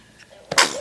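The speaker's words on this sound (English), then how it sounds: "Two sneezes." A single sharp sneeze bursts out close and loud after a brief soft intake of breath, in a home setting during a baby's tummy time.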